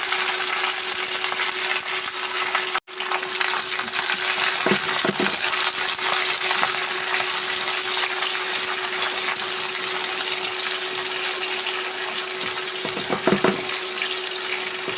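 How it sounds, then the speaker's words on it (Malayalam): Garlic, ginger and green chilli sautéing in a pan for green apple pickle, a constant sizzling hiss with a steady hum, briefly cut off once, with occasional clinks of stirring. "പച്ചമണം മാറുന്നതുവരെ വഴറ്റിയെടുക്കാം"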